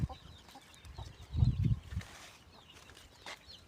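Hens cluck softly on a farm, a few short bursts of low clucking and faint peeps from newly hatched chicks in an otherwise quiet space.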